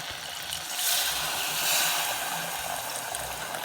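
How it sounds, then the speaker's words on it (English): Water poured into a hot pan of rice cooking with tomato sauce, giving a steady loud hiss and sizzle of steam that swells twice, with no talking. "now you go ahead and add your 2 cups of water."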